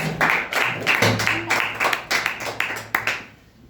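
A small group claps together in a brisk, uneven burst of applause at a storytelling competition, lasting a few seconds before trailing off.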